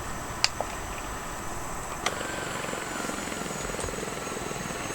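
Simulated helicopter rotor in the X-Plane flight simulator, a steady close thrumming whir with constant engine drone, plus a couple of faint clicks, no voices.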